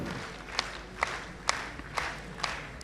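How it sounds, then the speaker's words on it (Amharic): Audience applause at an award ceremony for African institutions and leaders: a steady crowd murmur carries sharp, evenly spaced claps that land about twice a second. "እስኪ ሞቅ ባለ ጭብጨባ እንጀምር።"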